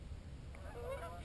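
Geese honk faintly at a distance over a steady low outdoor rumble of wind, a few thin calls rising briefly during a goose hunt.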